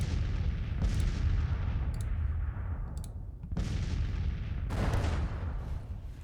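Cannon booms from artillery batteries in the Civil War strategy game Grand Tactician: The Civil War, several heavy reports spaced a second or so apart over a continuous low battlefield rumble, with sharp crackling bursts between.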